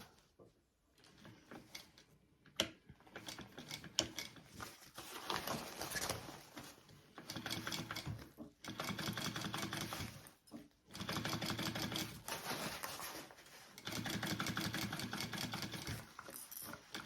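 A sewing machine stitching a bag lining runs in several bursts of fast, even mechanical whirring, separated by short pauses and a few clicks, fairly quiet and close.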